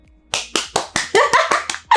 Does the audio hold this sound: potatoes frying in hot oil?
no